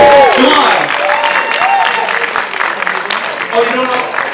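An audience applauds and cheers at a live Q&A event, a dense wash of clapping with whoops and a voice calling out over it.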